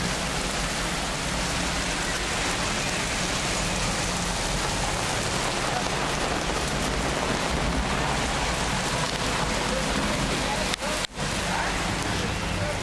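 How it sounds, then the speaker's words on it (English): Steady heavy rain falls outdoors, making a dense, continuous hiss that stays close and loud for the whole stretch, with one brief break near the end. "Actually, it is raining now."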